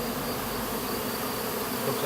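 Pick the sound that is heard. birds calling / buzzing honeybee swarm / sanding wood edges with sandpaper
buzzing honeybee swarm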